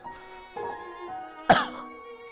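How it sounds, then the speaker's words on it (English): A single sharp cough bursts out near the middle, loud and close, over soft, sustained background tones. "Have the coughs."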